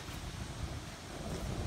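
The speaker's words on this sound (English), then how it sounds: "Of course it's windy right when we started to do this." Wind blows outdoors during a shoe burning, a steady rough rumble of gusts buffeting the microphone with no talk.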